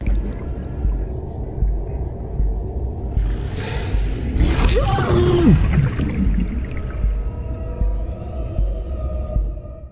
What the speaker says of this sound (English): The most deadly biomes are frequently devoid of sound, except for the hushed roars of nearby leviathans